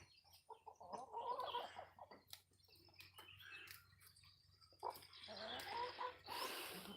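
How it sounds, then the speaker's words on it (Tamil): Backyard chickens cluck steadily while gathering to eat rice, several birds close by with overlapping soft calls and occasional louder squawks. "நம்ம கோழிங்கெலாம் அப்போ தான் அரிசிக்கு தின்றதுக்கு வந்திருக்குறாங்க"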